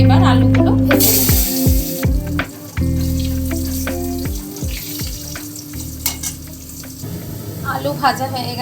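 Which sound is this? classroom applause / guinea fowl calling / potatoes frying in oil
potatoes frying in oil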